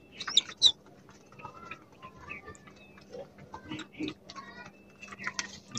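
Pigeons, kept paper-white birds with chicks, give soft murmuring coos and chirps among faint ticking and rustling, close by and intermittent, with no talk.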